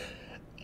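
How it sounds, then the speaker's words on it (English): A single short, loud cough bursts out at the end after near silence, sharp and close, from a person with a tickle in the throat. "I kind of got a cough today"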